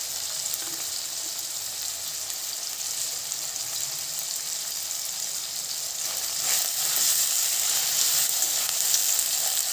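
Cloves, cardamom, ginger, garlic and cumin frying for a raw papaya curry, a loud, even sizzle throughout that swells slightly stronger toward the end, with no speech.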